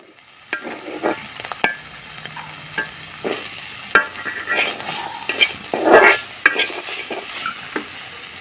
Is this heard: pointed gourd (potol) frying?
yes